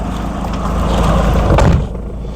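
A car out on a brake test drive rumbles past close by, its engine swelling to a loud peak before cutting away abruptly.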